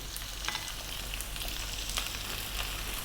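Sliced onion and fresh chili fry in a pan with a steady, close, moderate sizzle and faint scattered crackles, with no voices.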